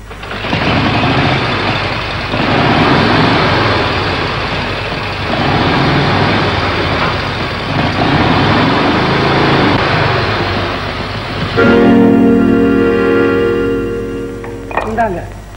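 A vehicle engine strains and labours in a Tamil film scene, a steady loud rumbling drone throughout, ending in a higher tonal whine near the end, with voices in the scene.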